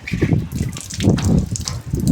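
Hot water gushing from an outdoor drain pipe behind a house, a steady broadband rush with gurgling surges that swell and ease over the short stretch, fairly close and continuous.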